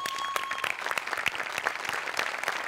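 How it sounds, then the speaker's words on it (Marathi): Studio audience at a Marathi comedy show applauds steadily, a dense wash of many hands clapping loudly and continuously without talk. "एकदा जोरदार टाळ्या सगळ्यांसाठी"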